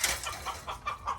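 A chicken clucks several times in quick, short bursts, close by and moderately loud, with no talking.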